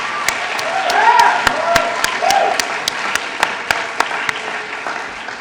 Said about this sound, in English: Can we have a massive round of applause for the Team UCL staff?